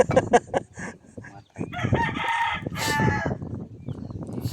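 Chickens cluck nearby, then a rooster lets out a long, loud crow, with more clucking around it.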